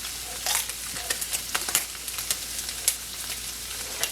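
Taco filling simmering in a pan with about a third of a bottle of Trader Joe's sauce added: a steady close sizzle and bubbling with frequent sharp crackles and pops throughout, no voices.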